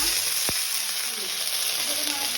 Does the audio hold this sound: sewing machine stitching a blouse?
no